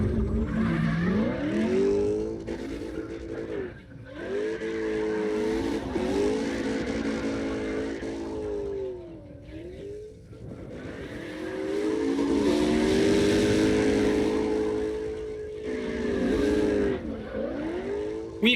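A Mustang's engine in the CarX Drift Racing video game roars through repeated revving surges with pitch sweeping up and down as it drifts, with tire squeal, loud and continuous with brief dips between bursts.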